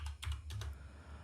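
Keystrokes on a computer keyboard while code is typed, a few quick clusters of clicks in a short burst, close and fairly quiet against a low background hum.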